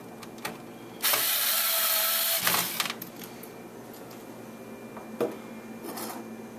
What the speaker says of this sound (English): I'm going to take a machine screw, fasten the board to the chassis.